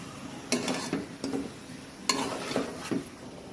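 Chicken pieces dropped into a pot with cardamom, cinnamon, cloves, turmeric, chili powder and cumin, giving close clattering stirs and scrapes in short bursts over a faint sizzle, with no talk.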